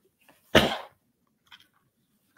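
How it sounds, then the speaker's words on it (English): A single sharp sneeze bursts out close and loud, then fades quickly into near silence with a couple of faint small sounds after. "Excuse me, I had to sneeze, y'all."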